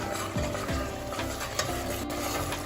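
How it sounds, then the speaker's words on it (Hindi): Masala spices frying in a pan for bottle gourd and chana dal, a close sizzle under a few quick scraping stir strokes. "ये मसाला हमारा बिल्कुल रेडी है, अच्छी तरह से भून लिया"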